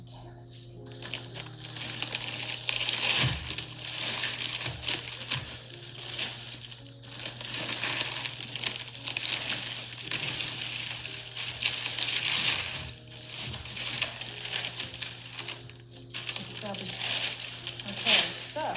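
A thin plastic dry-cleaning bag is pulled and unwrapped from a thrifted garment, with close crinkling and rustling bursts over a steady low hum, and a person talks intermittently.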